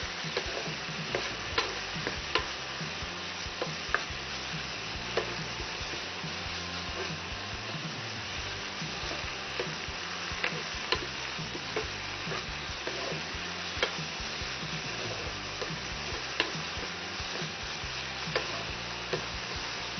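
Chopped bottle gourd sizzles steadily in a hot pan while being stirred, with regular scraping clicks of the spoon throughout, close and continuous, no talk.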